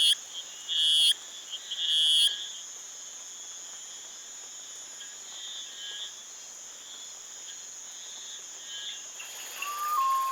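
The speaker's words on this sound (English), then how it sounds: "which is what this male frog is doing with its loud mating calls" A male glass frog in a tropical island forest gives loud, sharp, repeated mating calls in a couple of short bursts, set against a steady high chorus of insects and night-forest ambience.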